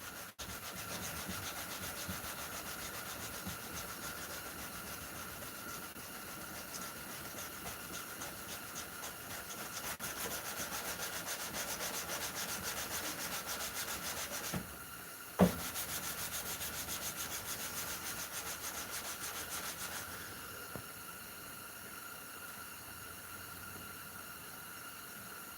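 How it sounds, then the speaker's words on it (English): Someone hand sands a wooden-handled youth-sized hunting knife, giving a long run of steady, even rubbing strokes that continue with only a brief pause midway. "I don't put many hours into hand sanding this knife."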